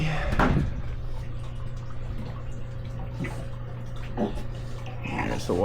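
Water runs through a homemade biological pond filter built from siliconed parts, making a steady low trickle with a faint mechanical hum beneath it. A voice speaks briefly over the flow.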